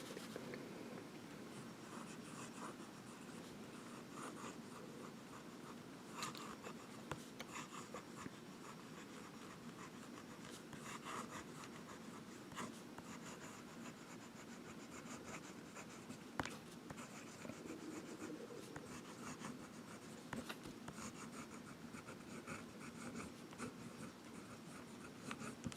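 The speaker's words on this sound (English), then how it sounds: "we're going to do some writing" A Jinhao 750 fountain pen with a medium nib writes on paper, giving a steady, close, dry scratching that runs continuously with small strokes and pauses, no voices.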